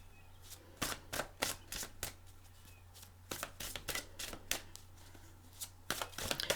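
Tarot cards being shuffled by hand, a run of crisp riffling bursts and soft slaps repeating irregularly over a low steady hum, close and fairly quiet with no talking.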